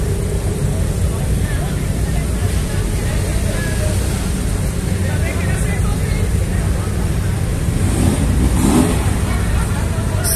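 A Volkswagen Jetta's engine revs loudly and steadily for about ten seconds, close by, with people talking over the roar throughout.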